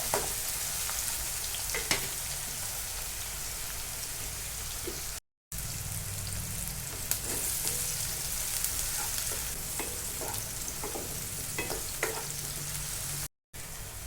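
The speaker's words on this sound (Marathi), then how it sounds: "टोमॅटो घालून छान भाजून घेणार आहे याला छान सोनेरी रंग येईपर्यंत आपण भाजून घेणार आहोत" Chopped onion and tomatoes frying in oil in a pan for pav bhaji, a continuous crackling sizzle with occasional stirring clinks, close and steady, broken by two brief silent gaps.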